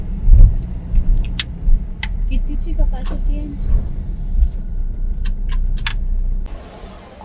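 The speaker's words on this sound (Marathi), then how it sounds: "सो गाडी झाली पार्क आणि आले वरती" A car is parked aboard the M2M RORO ferry from Mandwa to Mumbai, with an engine rumble and clunks echoing around the vehicle deck. People talk over the noise throughout.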